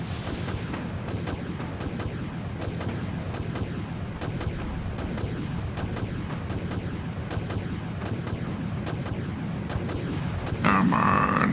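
A submarine or warship in a naval video game fires off torpedoes, giving a steady run of repeated heavy launch thumps and booms amid dense battle noise, with a brief electronic tone near the end.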